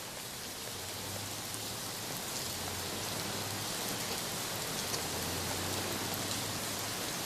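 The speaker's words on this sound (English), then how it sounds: "I mean, because of the rain." Steady rain falls continuously, a dense, even hiss that holds at a constant level from start to finish with no voices over it.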